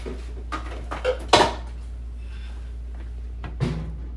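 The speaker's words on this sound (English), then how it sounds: "I'm gonna just put the lid on this. Move my teapot out the way." A lid set on a pot on a stove, then a teapot moved aside, making a few close metallic clanks and scrapes spaced over a few seconds against a low hum.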